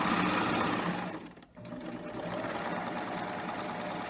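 A serger sews a 3-thread rolled edge on fabric, a fast, steady mechanical hum that briefly slows and dips near the corner before running on again, close and fairly loud.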